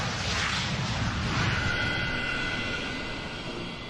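A McDonnell Douglas DC-10 airliner in its 17th year of service drones overhead, a broad steady roar that slowly fades with no voices.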